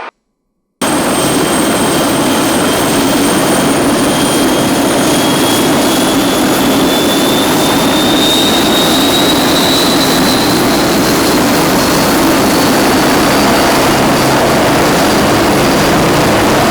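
An aircraft engine roars steadily and loudly up close after a brief silence, a dense broadband drone with whining tones that slowly rise in pitch as the throttle is advanced.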